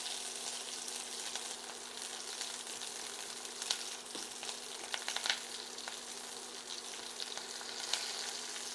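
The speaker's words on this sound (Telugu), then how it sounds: "పచ్చిమిరపకాయలు ఇవి కూడా ఫ్రై అవ్వాలి" Green chillies frying with prawns in a hot pan give a steady, close sizzle with light crackles and occasional sharper pops, no one speaking.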